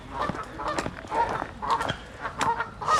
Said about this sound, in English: There's a lot of noise anyway. Geese more than anything, ducks.